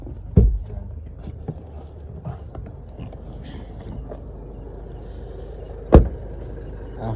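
A car pulls up after dropping people off at home, with a low steady engine rumble throughout, a sharp thump near the start and another loud bang like a door shutting near the end, outdoors at close range.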